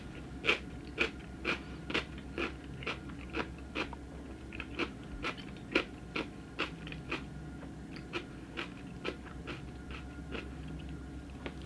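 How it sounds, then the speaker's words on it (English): Steady, rhythmic crunching as someone chews crisp pickled root, about two bites a second, close and clear with no talking. "That pickled root is crunchy, but tasty."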